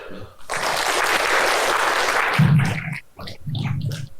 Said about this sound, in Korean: 박수로 맞아요